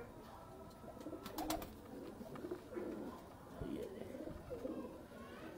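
Pigeons of a prized fancy breed cooing softly at close range, a steady murmur of coos and rustling, with someone talking over them throughout.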